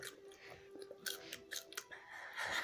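Salt and vinegar crisps crunched and chewed by a person wearing gum shields, giving a series of close, irregular crisp crunches and mouth noises at low volume with no talking.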